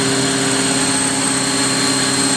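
A Citizen A32VII CNC Swiss lathe spindle runs steadily at 4000 RPM, heard from close range as a smooth, continuous whine with faint tonal hum and no speech.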